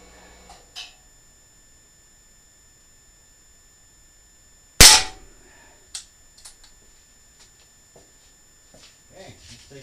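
A stock 2240 gun fires one sharp, loud, close crack from a standing two-handed position, set against near-silence with a few faint handling clicks afterward.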